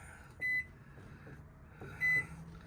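Two short electronic beeps from a microwave keypad in a travel trailer, spaced over a second apart, against a quiet room hum.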